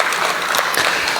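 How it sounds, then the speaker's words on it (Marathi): An audience applauding at a preschool event, a dense, even patter of many hands clapping fairly close and loud throughout the short stretch. "आपणही टाळ्या वाजवून त्यांचं कौतुक करावं"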